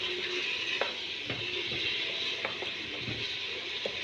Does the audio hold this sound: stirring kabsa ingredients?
yes